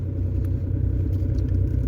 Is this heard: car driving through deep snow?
yes